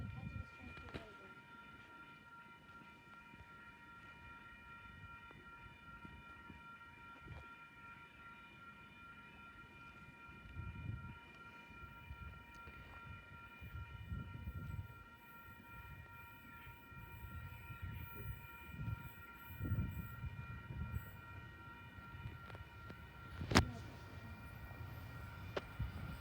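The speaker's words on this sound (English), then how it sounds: "We have an Oscar train arriving onto platform number 2." Oscar passenger train pulling into platform 2 of a station, a steady low rumble with rail squeal tones building gradually, brief horn-like burst near the end, moderately distant.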